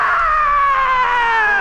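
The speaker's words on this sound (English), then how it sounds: "And the tiger screamed." A tiger scream in a radio drama comes as one loud, sustained, slowly falling wail lasting well over a second, close and alone without talk.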